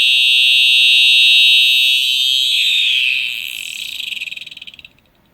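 A fire alarm sounds with a loud, piercing electronic tone, then winds down as it is switched off, sliding into a stuttering, fading buzz before cutting out.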